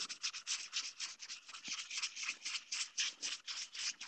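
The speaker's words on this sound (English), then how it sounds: "we're going to start wet sanding this." Quick, rhythmic back-and-forth wet sanding of a 3D print with sandpaper, about five strokes per second, soft and close, with no talking.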